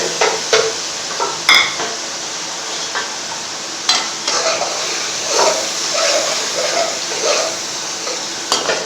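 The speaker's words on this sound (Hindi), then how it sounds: "थोड़ी देर इसको भूनते हैं ऐसे।" Half a kilo of chicken frying in a thick masala gravy for a chicken and lauki curry, stirred with a utensil that scrapes and clinks against the pot now and then over a steady low sizzle, close by with no voices.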